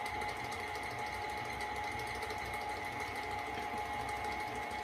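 An electric mixer blends eggs into strawberry shortcake batter, giving a loud, steady whirring motor drone that runs unbroken the whole time, with no talking.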